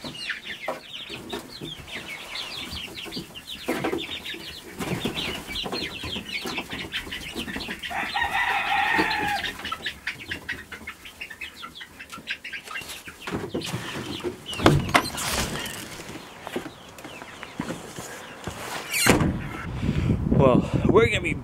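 Chickens cluck and rustle around a poultry pen, a busy flock of fowl with scattered calls and wing flaps, heard under a voice and farm background noise.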